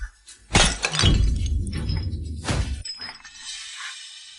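Porcelain breaking and shattering indoors, a loud crash followed by scattering fragments and a second smash, then a lingering tinkle of shards; a Yongzheng imperial-kiln blue-and-white vase.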